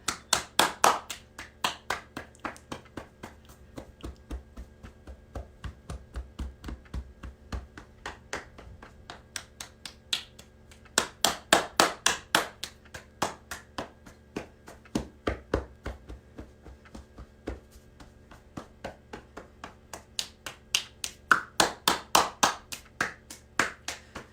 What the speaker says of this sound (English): Clap up the arms, cupping in the armpit.